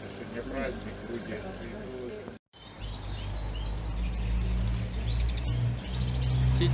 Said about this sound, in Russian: Птичий рынок. Недалеко от автовокзала.